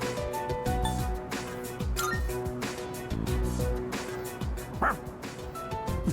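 In the video game Persona 3 Reload, a dog gives several short yips and barks over looping background music, with a chiming accent partway through.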